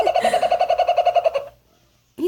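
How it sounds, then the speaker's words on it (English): A kookaburra gives a rapid run of repeated loud, rhythmic call notes, close by, then falls silent before a brief separate call at the end. "Oh, it's a kookaburra. That is a crazy kookaburra."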